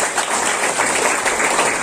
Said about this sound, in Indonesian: tepuk tangan buat Pak Syahrul